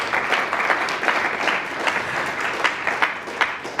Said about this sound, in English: Applause for yourselves.